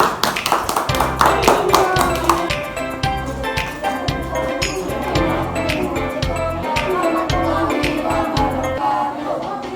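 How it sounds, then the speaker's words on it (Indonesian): Audience applause at a university teaching-practice session: loud, steady clapping from a crowd of many hands, sustained throughout with dense rhythmic claps and no talk over it. "Beri tepuk tangan yang meriah."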